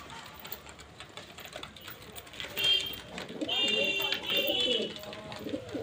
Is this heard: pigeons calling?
yes